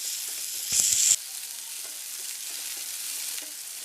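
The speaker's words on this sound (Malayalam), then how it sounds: "ഇനി ഇതുകൂടെ നന്നായിട്ടൊന്ന് വഴറ്റിയെടുക്കാം" Tomato and onion masala sautés in a pan with a steady soft sizzle, punctuated by a brief louder burst of stirring and frying near the start, then quieter scraping clicks of a spoon against the pan.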